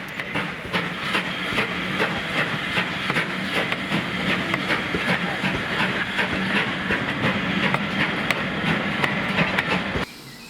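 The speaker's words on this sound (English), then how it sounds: "The first train to leave Cheltenham Racecourse was hauled by the new build Lady of Legend number 2999, seen here leaving tender first from Winchcombe." Steam locomotive No. 2999 Lady of Legend, a new-build engine, departs Winchcombe tender first at a Gloucestershire Warwickshire Railway spring gala, with loud rhythmic wheel clatter and exhaust beats over a continuous rolling rumble for about ten seconds.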